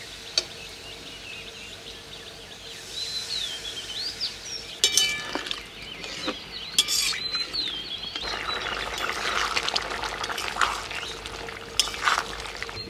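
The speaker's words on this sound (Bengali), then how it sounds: "এবার দিয়ে দিচ্ছি জল।" Water is poured into a pot of green jackfruit curry cooking in a village kitchen: a soft, continuous close-up pour and splash running for several seconds, with light clinks and faint background chirps.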